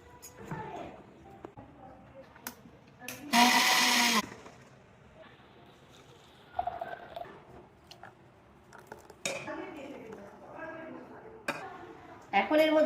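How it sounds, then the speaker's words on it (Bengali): A kitchen mixer grinder jar grinds washed rice and lentils into dhokla batter paste, heard as one loud, roughly one-second whirring burst, with talk before and after. "এখন আমি এই চাল ডালটাকে মিক্সিং জারে দিয়ে ভালো করে পেস্ট করে নেব।"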